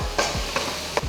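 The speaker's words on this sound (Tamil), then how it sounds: "வெங்காயம் வந்து நல்லா வதங்கட்டும்." Steady sizzling of onions sautéing in a hot pan for tomato kulambu, with a few soft stirring scrapes, close and continuous, no voices.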